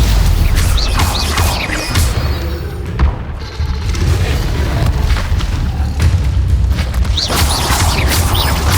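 Stupefy spell impacts in Hogwarts Legacy combat, loud booming hits and crashes layered over dense game effects and music, with repeated bursts throughout and no clear talk.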